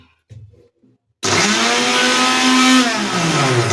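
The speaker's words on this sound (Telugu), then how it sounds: "దీంట్లో మిక్సీ పట్టేద్దాం" A few faint clatters, then a kitchen mixer grinder grinding ingredients for homemade kumkuma switches on abruptly and runs with a loud, steady whirring roar close by until the end.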